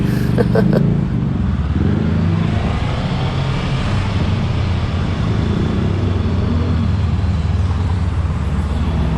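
A brand-new Honda CBR500R on its first kilometre, ridden with a loud, steady engine drone and heavy wind rush throughout.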